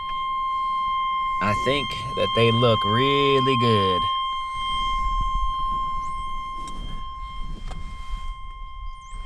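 Steady electronic beeping from a car while old GM opera lights are switched on, a constant tone running through the whole stretch, with someone talking over it in the middle.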